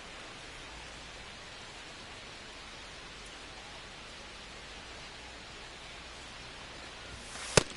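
Steady hiss of rain falling on a baseball field in the MLB 25 video game, even and unbroken throughout, with one sharp click just before the end.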